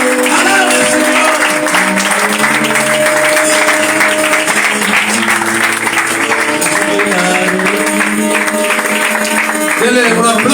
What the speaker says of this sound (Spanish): Dale palmas a todos.